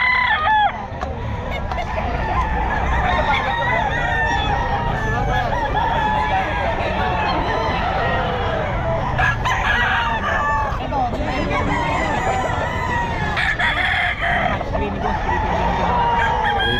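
Stag roosters crow repeatedly at a busy pet market, several birds overlapping near and farther off, with clucking mixed into steady crowd chatter and a vendor's voice.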